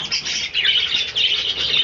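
Pet budgerigar chirping continuously close by, a bright, busy stream of high warbling tweets and chatter with no voices.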